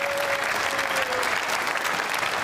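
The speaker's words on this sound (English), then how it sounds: "Round of applause for the." A comedy show audience gives a loud, sustained round of applause, with dense clapping filling the whole moment.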